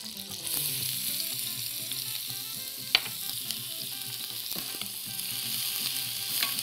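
Onion frying in a small knob of butter with a drop of oil in a pan: a steady, close sizzle and crackle runs throughout, with a sharp utensil clack near the middle and light stirring scrapes.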